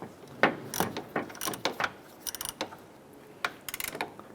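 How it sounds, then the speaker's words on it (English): A socket ratchet snugs down the lower headlight support bracket bolt on a 2011-2018 Ram 1500, giving close, crisp bursts of rapid clicking in uneven strokes with brief pauses between them. "what we're going to do is snug down our lower bolt"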